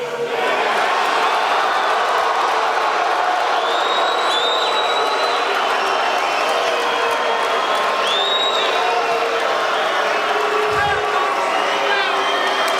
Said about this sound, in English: It sounds like you have a couple of protesters back there.